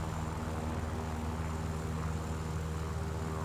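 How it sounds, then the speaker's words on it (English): Steady propeller engine drone of a Yak-3 (VK-107) fighter plane in War Thunder, a continuous loud hum with strong low harmonic bands, unbroken and without talk throughout. "Now here's a plane coming up for me"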